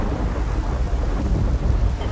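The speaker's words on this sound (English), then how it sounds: "That is a storm, this time." Thunderstorm with continuous heavy rain and deep rolling thunder, a loud steady roar filling the whole stretch with no clear pauses, outdoors at an NFL team's training camp.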